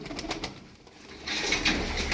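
Pigeons in a Turkish fancier's loft coo softly and repeatedly at close range, with a brief quieter pause before a denser stretch of cooing and faint rustling.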